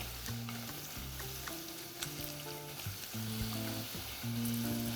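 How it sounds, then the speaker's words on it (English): Steady, loud sizzling of vegetable fries frying in hot canola oil, with occasional stirring clinks and crackles over a constant bubbling hiss. "those bubbles, that sizzle that you want there"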